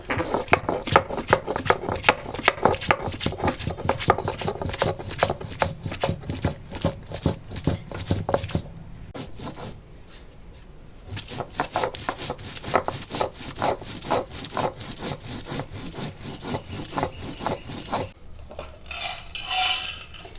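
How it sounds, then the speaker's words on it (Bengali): Ginger and cumin are ground into a paste by hand in a home kitchen, making steady, loud rhythmic rubbing strokes that pause briefly midway and then resume. "এখন আদা জিরে বেটে নেবো।"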